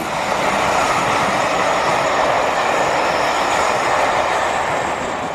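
North Eastern Express charter train running between Houghton and Newcastle via Carlisle, a loud steady roar of rolling wheels and rail noise sustained close by, with faint high squeal overtones.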